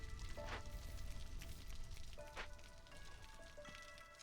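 Steady rain in the video game Against the Storm, a continuous hiss of drops on surfaces with a few faint tonal game sounds, no talk.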